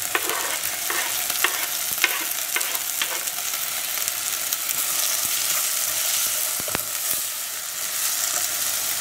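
Tomatoes fry with ginger, garlic and green chili in a pan, giving a steady close sizzle with occasional clicks of a spoon stirring throughout.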